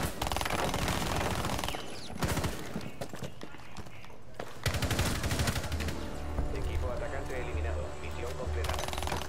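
Rapid gunfire in a shooter video game, dense bursts and rattling automatic fire running almost continuously, with a player talking loudly over much of it.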